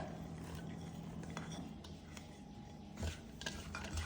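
A spoon scrapes and clinks in a bowl as shredded cabbage is stirred with turmeric and salt for a Kerala-style thoran. The soft, uneven stirring is close and quiet, with a few sharper knocks near the end.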